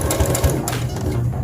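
A sewing machine back stitches a seam on baby pants in one brief, close burst of rapid whirring and clatter.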